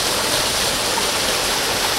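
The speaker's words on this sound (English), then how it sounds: "This is Fall Branch, and there's some nice cascades here" Water tumbling over the cascades of Fall Branch in Big South Fork forms a steady, broad rushing hiss, close and unbroken throughout with no other sounds.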